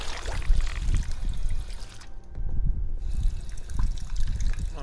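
Water trickles and pours steadily while being collected in the Fallout video game. The flow is continuous and fairly close, with no voices over it.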